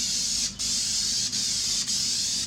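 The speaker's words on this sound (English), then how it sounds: "Now when you're spraying this, the wrinkles don't automatically appear right after you spray it." Continuous hissing of an aerosol can spraying wrinkle paint onto a Miata engine intake, close up, broken by three or four brief pauses between bursts.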